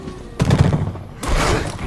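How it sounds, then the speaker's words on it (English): Gunfire in the video game Deadlight, two loud rough bursts of shots and thuds close up, the first around half a second in and the second near the end, with no voices. "That's gunfire."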